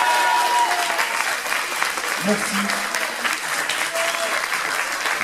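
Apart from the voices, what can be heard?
applause for the sound engineer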